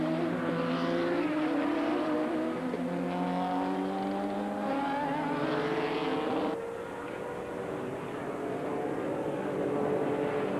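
Porsche 962 and GTO race cars at the 1990 Sebring 12 Hours, engines screaming as they pass close by with rising and falling pitch, one car dropping away before another roars through.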